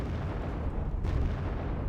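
Artillery units being blown apart in the strategy game Wargame: Red Dragon produce a dense, continuous rumble of heavy explosions, loud and sustained, with a fresh burst about halfway through.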